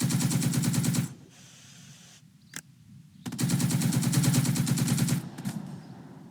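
Heavy machine gun fire from the WWII strategy game Second Front: dense, sustained bursts of rapid automatic shots, loud and close, broken by a short lull with a single sharp crack before another long volley resumes.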